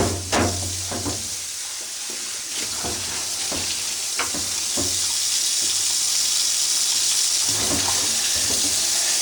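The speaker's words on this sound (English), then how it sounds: "I'm going to start rinsing it into the bucket" Black-dyed jeans being rinsed by hand into a bucket, with running water splashing and sloshing steadily throughout and a low hum underneath, broken by scattered clunks and sharper splashes.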